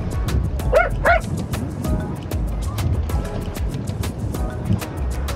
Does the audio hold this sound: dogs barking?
yes